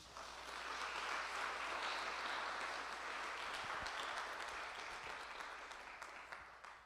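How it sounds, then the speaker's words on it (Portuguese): Worshippers in a church applaud together, a broad continuous wash of clapping that swells early then slowly fades toward the end, soft and somewhat distant with no speech over it. "Uma salva de palmas para Jesus."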